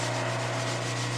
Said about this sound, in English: Oh, that sanded nice.